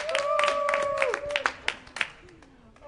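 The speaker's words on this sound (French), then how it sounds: "on a notre champion, on peut l'applaudir" A small group at a laughter yoga workshop claps for a champion, a short burst of applause mixed with voices and a sung or drawn-out vocal tone that fades out after about two seconds.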